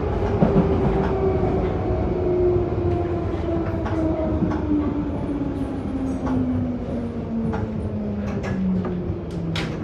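A London Underground Bakerloo Line 1972 stock train runs steadily between Queens Park and Stonebridge Park, with a continuous loud rumble, a slowly falling motor whine and occasional rail clicks.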